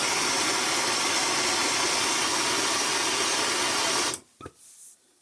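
A rolling mill's big rollers pressing torch-heated gold into sheet for homemade coins give a loud, steady mechanical roar that stops abruptly near the end, followed by a couple of faint knocks.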